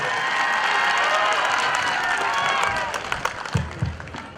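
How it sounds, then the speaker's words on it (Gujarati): A crowd at a Patel Samaj opening event breaks into loud sustained applause with some cheering, then the clapping thins into scattered claps and a few voices. "કોઈ તાળીઓથી નાદ આપો બધા"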